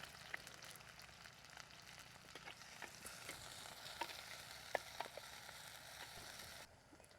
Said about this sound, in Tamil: இங்கே பாருங்க எப்படி பொரியுதுண்டு வெங்காயம்